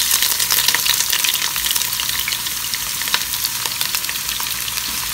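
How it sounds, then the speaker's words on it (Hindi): Thinly sliced onions frying in hot oil, a loud, dense and steady sizzle heard up close with light stirring and no voices. "जैसे ही हमारा ये ऑयल गर्म हो जाएगा, सबसे पहले हम इसमें अपना ये प्याज ऐड कर देंगे जो थिनली स्लाइस की है।"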